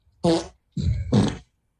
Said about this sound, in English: I'm blown away that it's different farts every time